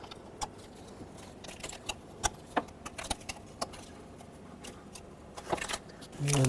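Plastic connectors unplugged from the fuel injectors of a 2007-2010 Chrysler Sebring engine, giving sparse, sharp, close-up clicks and small rattles, with a louder rustling handling noise at the end.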